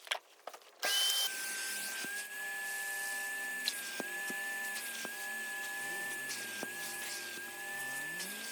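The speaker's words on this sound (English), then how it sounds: "This is the pneumatic Henry Wash carpet shampoo that I'm using and it's a fantastic machine." A Henry Wash carpet shampoo wet vac starts with a few bumps, then runs with a steady, fairly faint motor whine, broken by occasional light clicks and knocks.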